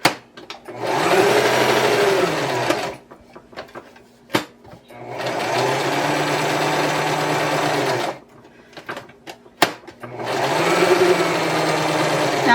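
A sewing machine stitching fabric stars for a wreath runs in three long, steady whirring stretches, loud and close, separated by short pauses filled with handling clicks and clunks.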